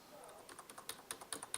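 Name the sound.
typing on a computer keyboard, pressing M and N keys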